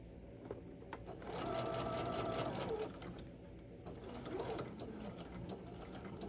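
Sewing machine stitching a bear apron with ribbon: a quiet, steady whir of the motor that rises for a longer stitching run in the middle and a shorter one later, with faint background noise.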